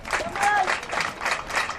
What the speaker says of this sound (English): he hears a round of applause from this Trinity crowd